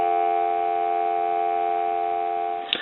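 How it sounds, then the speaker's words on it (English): Steady continuous dial tone from an old candlestick telephone being repaired and converted, loud and unbroken for nearly three seconds before a small click near the end. "I'm going to give you some dial tone."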